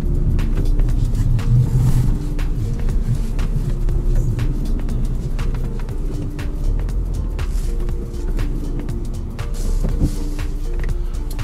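A car climbs a slope on a rough track, its engine laboring in a low rumble with bumps and knocks from the tyres, close and steady with no talk.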